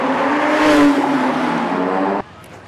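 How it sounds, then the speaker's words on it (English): A green Ferrari supercar rumbles past close by, a loud roaring engine note that swells and then cuts off abruptly as it passes. "Followed by this nice Ferrari."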